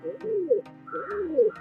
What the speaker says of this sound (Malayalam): ഇതാണ് നമ്മളെ പ്രാവ്.